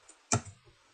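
A single sharp keystroke on a computer keyboard, followed by a softer click or two, close and isolated with no talk, while entering text in a WhatsApp setup.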